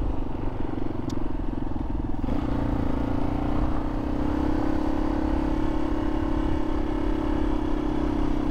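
A Yamaha XT250 motorcycle rides along a rocky road, its engine droning steadily and loud throughout with a constant throaty hum and road noise.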